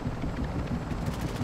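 Helicopter in the game Warzone 2 passing overhead with a rapid, pulsing rotor chop under a rumbling low drone, fairly close and steady for a brief moment.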